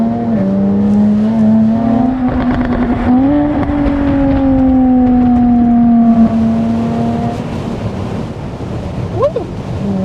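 A 2014 Jaguar F-Type two-door convertible sports car drives with its engine loud and close. The steady tone climbs in pitch partway through and then holds under road and wind noise, with no talking.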